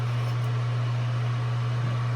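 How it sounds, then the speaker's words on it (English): A steady low hum with a faint broadband whir runs throughout, like a fan running in the background, constant and unchanging with no voices. "The fan is on."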